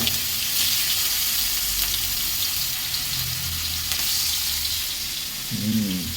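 Onions frying in a pan with dried salted fish, a steady loud sizzle that continues throughout, joined near the end by a brief scraping or stirring sound.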